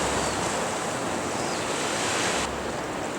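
Waves break on a coral reef off Molokai, Hawaii, in a continuous loud, close surf roar that barely varies and has no voices over it.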